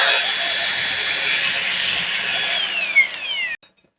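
An Ingco battery-powered angle grinder fitted with a cutting blade runs at full speed with a loud high-pitched whine, close up, then spins down and cuts off abruptly near the end.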